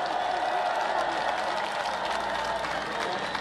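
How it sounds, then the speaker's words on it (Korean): An audience at a political rally gives a speaker warm applause, a dense steady wash of clapping, with crowd noise and a voice faintly underneath. "우리 강사님에게 다시 한번 뜨거운 박수 부탁드리겠습니다."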